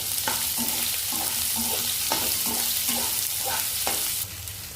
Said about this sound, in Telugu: పోపు కొంచెం ఫ్రై అయిపోయింది కదా, ఆనియన్స్ యాడ్ చేసుకుంటున్నాను